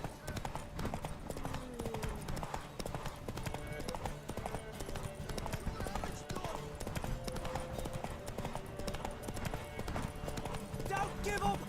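Horse hooves galloping during a race in The Witcher 3: Wild Hunt, a fast steady clip-clop rhythm that runs throughout, close and loud, layered under game music and voices.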